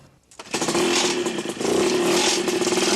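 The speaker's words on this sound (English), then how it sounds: "A noisy little 20-horsepower snowmobile engine supplies the needed power to push the ultralight around" A noisy little 20-horsepower snowmobile engine powering an ultralight plane starts up loud and buzzing, its raspy drone rising in pitch and holding steady and close.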